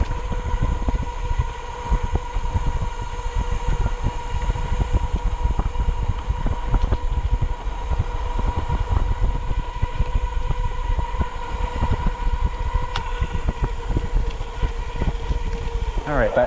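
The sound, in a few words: electric bike motor running on throttle only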